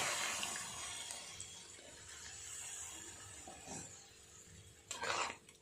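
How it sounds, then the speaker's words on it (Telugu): Water gurgles and sizzles faintly into a hot pan of frying potato and capsicum curry, followed by a brief louder splash and clatter near the end. "ఇలా వేగాక కొంచెం వాటర్ని కూడా వేసుకోవాలి"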